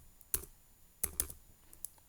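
A few sharp clicks of typing on a computer keyboard while entering a Linux command, with short bursts of keystrokes separated by pauses, quiet and close.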